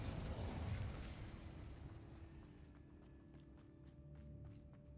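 Fire and blast spells cast in the Hogwarts Legacy video game, a rumbling burst at the start fading into a sustained low magical roar with faint mechanical ticks and a steady tone underneath.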